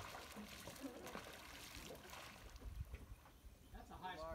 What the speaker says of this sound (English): Here, fast action rowing. That's a high speed paddle.